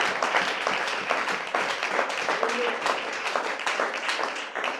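A church congregation applauding at a sermon, a dense, continuous patter of many hands clapping close by, with a few voices mixed in.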